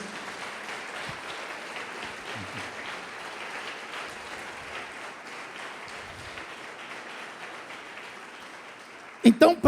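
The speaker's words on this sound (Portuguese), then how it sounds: "Pode aplaudir o Senhor e glorificar a Deus." A church congregation applauds steadily for several seconds in a broad, even wash of clapping, ending with a few louder bumps close by.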